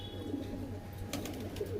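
Kaldum pigeons cooing in a loft, a soft low coo under steady background noise, with a faint high chirp. No one speaks.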